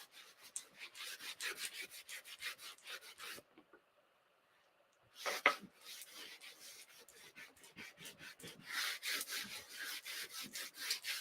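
Surface wax is rubbed by hand into a wooden pallet tray, making soft, rhythmic scrubbing strokes close to the microphone. The strokes stop briefly in the middle, then resume with one sharper scrape.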